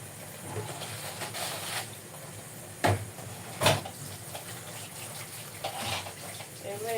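Food gets a final wash under running water in a kitchen, with a steady rushing stream, a couple of sharp knocks and clatters, and soft handling noises nearby.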